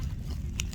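A single close crunch of fried, ranch-seasoned corn nuts being bitten, brief and faint against a low background rumble.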